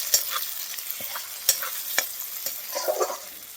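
Onion and tomato stirred and frying in a pan for a dry drumstick-pod vegetable dish, giving a soft continuous sizzle broken by several sharp spatula scrapes and clinks, close and alone with no talk.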